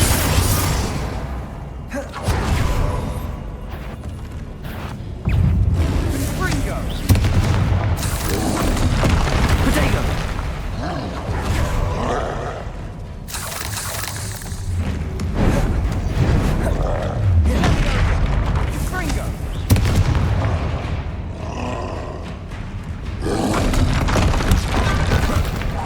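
Bombarda spell blasts in Hogwarts Legacy gameplay, repeated heavy booming explosions layered over a dense, loud wash of combat noise and music across the whole stretch.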